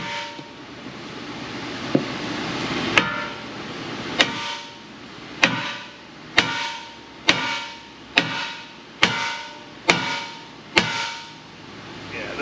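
Nine sharp metallic hammer strikes on a part of a 2010 Honda Civic 1.3 CVT Hybrid, spaced roughly a second apart with ringing clangs, close and loud.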